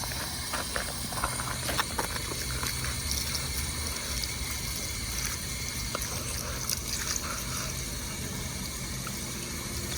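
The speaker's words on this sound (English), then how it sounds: "Let me help with the hose." Water runs steadily from a garden hose at a campsite, a constant splashing, trickling gush with faint outdoor ticks and clicks around it.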